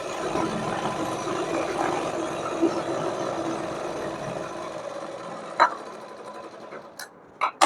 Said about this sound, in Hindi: इस तरीके से मैंने पूरे में सिलाई लगा ली।